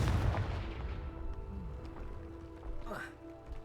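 In Hogwarts Legacy, the Confringo blasting spell bursts with a deep booming rumble at the start, then settles into a quieter crackle before a rising magical whoosh near the end, with a voice present.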